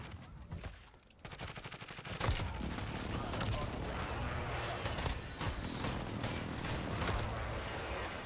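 Video-game gunfire from a sniper-scoped assault rifle, a dense run of rapid shots and booms filling several seconds after a brief quieter start, loud and continuous.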